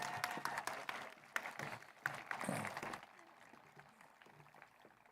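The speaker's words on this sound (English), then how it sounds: "can we have a big round of applause for our faculty?" Audience applause for the faculty at a physician assistant white coat ceremony, loud dense clapping for about three seconds that then fades into quieter hall noise, with a voice speaking over part of it.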